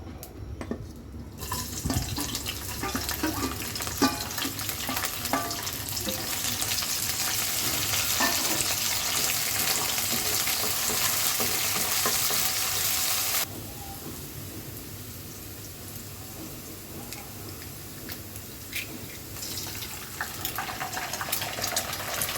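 Snake gourd frying in a pan for a simple Bengali bhaji, a loud close sizzle with stirring and scraping that drops in level halfway through and then continues more softly, with no speech.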